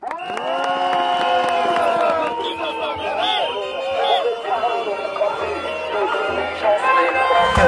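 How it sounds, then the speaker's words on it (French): Crowd at a Gilets Jaunes street protest against police violence cheers and applauds loudly and continuously, with shouting and whoops mixed in close by. "Un applaudissement, merci."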